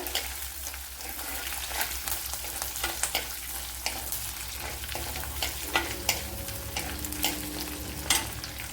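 Cut dried red chillies frying in hot oil, a steady dense sizzle with frequent stirring clicks and scrapes, fairly close and continuous throughout.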